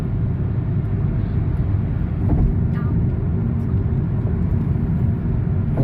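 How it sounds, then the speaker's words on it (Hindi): Steady, loud highway traffic roar heard from inside a car driving between Frankfurt and Paris, a continuous low rumble of engine and tire noise with little variation. "बहुत ज़्यादा ट्रैफिक है"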